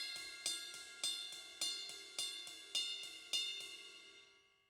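A drum kit's ride cymbal plays steady eighth notes, with regular accented strikes on the bell ringing out bright and shimmering, close and alone, before fading away.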